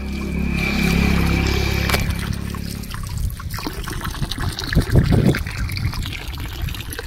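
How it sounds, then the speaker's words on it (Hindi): Water trickles and splashes down from higher ground at a roadside stop on the mountain road from Ramnagar to Chaukhutiya in Uttarakhand, opening under a steady engine-like hum before the uneven trickle continues alone. "पानी कहीं ऊपर से आ रहा होगा ना।"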